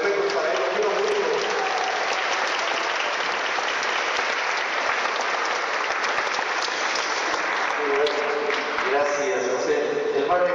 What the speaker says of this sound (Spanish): Un aplauso para Padre Chaco